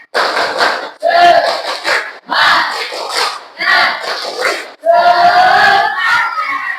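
A classroom of students performs a rhythmic spirit clap chant, loud bursts of group shouting and clapping in five to six distinct phrases with short pauses between them.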